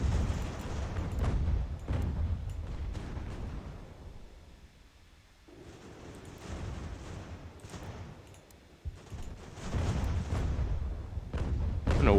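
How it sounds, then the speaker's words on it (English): Cannon fire booms in Ultimate General: American Revolution during a Boston Massacre battle, a rolling series of low thuds and rumbling blasts that swell, fade to a lull midway, then build again. "the artillery is doing a fantastic job"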